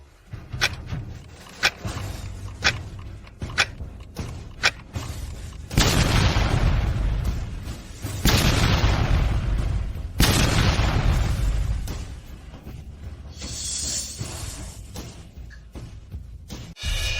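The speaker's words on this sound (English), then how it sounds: "It really exploded." An explosion in a drama scene lands as several loud, broad blasts from about six to ten seconds, with sharp thuds and rumbling before them and a quieter debris tail afterward. No one speaks.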